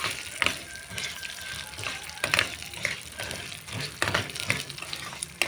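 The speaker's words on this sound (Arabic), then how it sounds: "نحمر لسان العصفور للشوربه، لشوربه لسان العصفور، لشوربه الخضار" Vermicelli (lisan al-asfour) frying in a pan for vegetable soup gives a steady close crackling sizzle with sharper pops and bursts, the texture continuous throughout.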